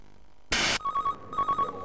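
Telephone ringing after a number is dialed in a British TV ad: a short burst of noise, then an electronic ring in quick repeated pulses, clear and fairly close.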